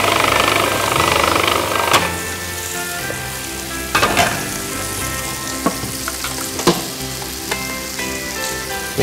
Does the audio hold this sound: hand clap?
no